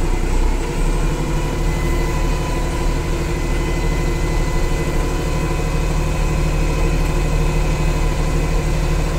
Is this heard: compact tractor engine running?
yes